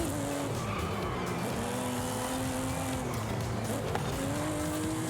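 In the Forza Horizon racing game, a car engine drones continuously while tires squeal and skid, the pitch of the engine sliding up and down through long, loud, unbroken drifting.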